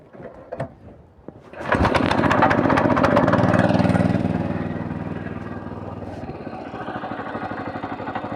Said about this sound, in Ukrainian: Так що Заводимо зараз мотоблок і їдемо.